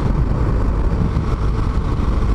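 A 2008 Kawasaki KLR dual-sport motorcycle engine running, heard as a continuous, loud, low rumbling drone mixed with steady wind noise, with no pauses.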